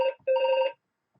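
A telephone rings with an incoming international call, two electronic warbling bursts close together, clean and close, followed by silence.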